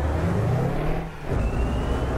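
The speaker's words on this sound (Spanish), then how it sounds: "Es que el motor suena diferente" Bus engine in a driving game, a steady low droning hum with a brief dip in level midway before it resumes, moderately loud and heard alone.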